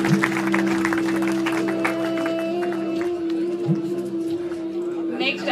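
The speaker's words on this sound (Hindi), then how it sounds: "तालियां बजती रहनी चाहिए।" An audience claps at the prize ceremony of the CBSE West Zone Archery Tournament 2026, steady clapping mixed under a talking voice and a constant tonal hum from the hall's sound system.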